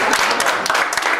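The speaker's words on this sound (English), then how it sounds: "Let's give a big round of applause for Mohammed" Audience applause for a volunteer at a stage hypnosis show, dense clapping from a crowd, steady and fairly loud throughout.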